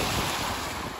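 Sea surf rolling onto a sloping beach in Sochi in March, with Abkhazian mountains in view, heard as a steady broadband wash of waves mixed with wind buffeting the microphone, fairly loud and continuous with no voices.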